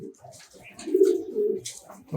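A pigeon at a loft coos softly up close in a brief, low, rolling call that swells and fades over about two seconds.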